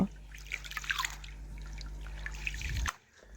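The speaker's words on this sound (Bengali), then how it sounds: "দুই থেকে তিনবার ধুয়ে চালটা পরিষ্কার করে নেব" Rice grains being rubbed and rinsed by hand in a bowl of water, soft sloshing and dripping splashes for about three seconds that then stop abruptly, close up with no talk.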